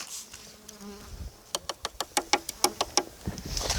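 Honeybees from a package hum faintly at first, then a quick series of about a dozen sharp taps and knocks sounds up close as the bees are dumped into a hive, the swarm droning on.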